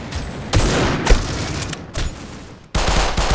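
Continuous gunfire in the mobile shooter game Critical Ops, dense bursts of weapon fire that fill the clip with brief gaps, loud and close with no talk over it.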